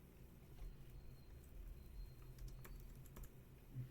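Quiet keystrokes on a computer keyboard tap out irregularly over a low background hum, the clicks faint and scattered with no voices.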